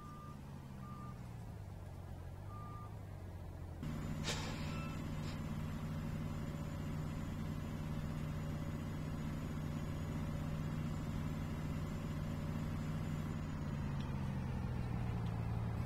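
Truck in Farming Simulator 19 reverses to drop off a dumpster bin, with a steady engine rumble and repeated reversing beeps that carry on under a rising mechanical hum.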